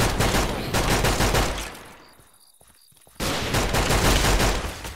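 Loud, rapid gunfire in a Minecraft hardcore game, dense bursts that drop away for about a second into near quiet with faint clicks, then resume just as hard.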